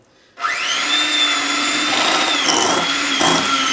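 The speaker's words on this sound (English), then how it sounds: "we're going to start by going ahead and whipping this. It's going to get loud" A loud electric mixer whipping cream whirs steadily after starting abruptly, with slight shifts in pitch and a rattling texture as it runs.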